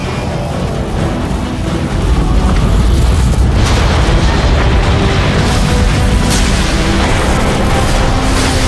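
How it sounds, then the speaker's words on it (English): A neutron gun powers up in the video game Transformers Fall of Cybertron, a loud, dense, sustained rumble that swells into a steady roaring drone with scattered booming bursts. "The neutron gun is activating!"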